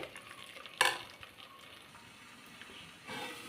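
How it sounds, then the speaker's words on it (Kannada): Coriander powder masala frying and being stirred in a pan for tomato bath, with a soft steady sizzle and a few louder scraping stirs. "1 ಸ್ಪೂನ್ ಧನಿಯಾ ಪೌಡರ್ ಮಿಕ್ಸ್ ಮಾಡಿ ಒಂದು 5 ನಿಮಿಷ ಫ್ರೈ ಆಗೋವರೆಗೂ ಬಿಡಿ"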